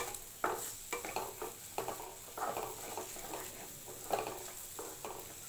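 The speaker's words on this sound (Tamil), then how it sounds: "நல்லா போட்டு வதக்கிக்கலாம்." Eggs being stirred and sautéed in a pan for egg fried rice, soft irregular scraping strokes over a faint steady sizzle, close and quiet with no talking.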